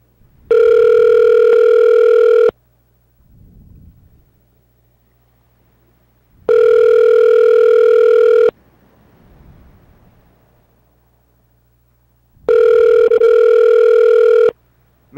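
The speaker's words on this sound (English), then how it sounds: "Hearing the phone ring." A telephone ringback tone on an outgoing call sounds three times, each a loud two-second buzz, separated by roughly four seconds of near silence with faint low background noise.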